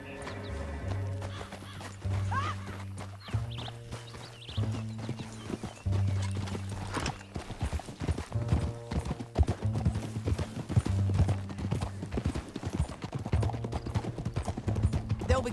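Horse hooves clip-clop at a quick gallop in Red Dead Redemption 2, with whinnies and neighs, under a loud game music score that runs throughout.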